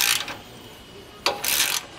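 Ratcheting clicks from a wrench tightening carriage bolts on an Air Lift LoadLifter 5000 helper-spring bracket, two short close bursts of rapid clicking separated by a pause, with no talk.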